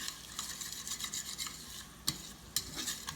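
Seasoning sautéing in a pan for stuffed shells, a soft steady sizzle with light stirring scrapes and a couple of sharper utensil clicks, close and moderately quiet with no talking.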